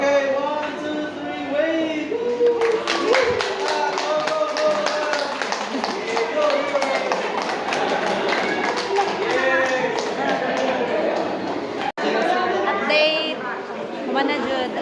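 Wedding guests applaud inside a church, a dense patter of many hands that runs steadily for several seconds, mixed with crowd chatter and voices close by.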